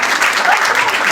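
Audience applause at a restaurant awards event in Noisy-le-Grand, a brief dense burst of many hands clapping close by, filling the room steadily.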